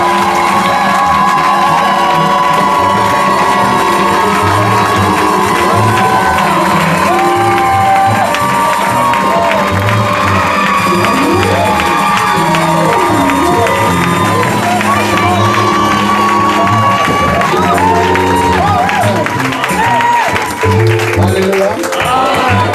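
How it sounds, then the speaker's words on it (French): A large congregation at a church service cheers, whoops and claps loudly for over twenty seconds, a sustained roar of many voices. "Est-ce que nous pouvons acclamer très très fort?"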